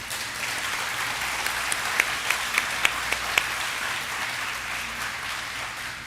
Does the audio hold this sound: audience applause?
yes